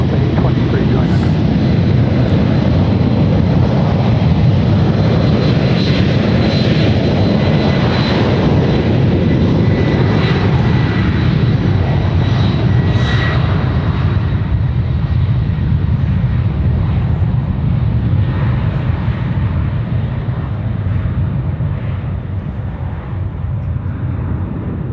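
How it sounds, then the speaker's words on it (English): A Delta airliner roars down the runway on takeoff at San Francisco International Airport, a loud, steady engine rumble that holds throughout and eases slightly near the end, with radio chatter faintly underneath. "Delta 719 now clear for takeoff."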